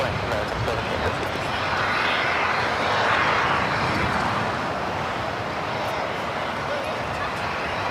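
Boeing 747 jet rolling down runway 25 left at LAX, a loud, broad engine roar that swells to a peak midway and then eases slightly, heard from the airfield with radio chatter and voices underneath.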